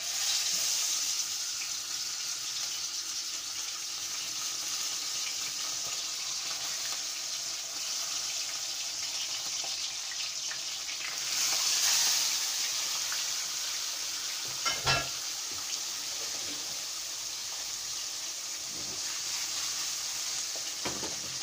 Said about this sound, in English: my oil is already hot, so I'm just gonna place the fish in there